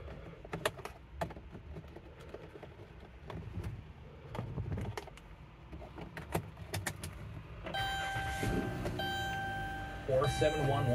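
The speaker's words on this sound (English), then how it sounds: "Let's just start it up." A 2018 Dodge Grand Caravan GT minivan with heated seats and steering: cabin clicks and key rattles, then the engine cranks and settles into a steady idle hum with a chime tone near the end.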